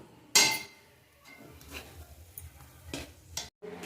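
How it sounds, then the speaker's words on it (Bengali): Jackfruit seed mash stirred dry in a pan on the stove, with a sharp scrape at the start followed by soft intermittent scraping and stirring strokes, close and moderately quiet, no talking. "দেখুন নাড়তে নাড়তে কতটা শুকনো হয়ে গেছে এরম নেড়ে নেড়ে শুকনো করে নিতে হবে"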